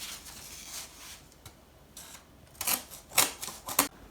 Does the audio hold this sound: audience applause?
no